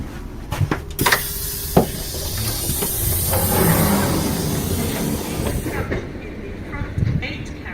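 A South Western Railway passenger train to London Waterloo rumbles along with broadband hiss and rattling, punctuated by sharp clunks and knocks; the hiss thins out near the end.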